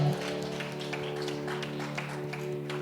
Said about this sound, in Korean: 감사와 영광의 박수를 올려드립시다.